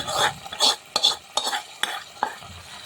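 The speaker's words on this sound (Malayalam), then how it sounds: "അങ്ങനെ നമ്മുടെ ബീഫിലേക്ക് കടുക് താളിച്ചൊഴിച്ചിട്ടുണ്ട്." Hot mustard seed tempering is poured into a finished beef curry, producing crackling sizzles and clattering spoon and pan scrapes in short, loud bursts.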